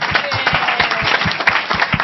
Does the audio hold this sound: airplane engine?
no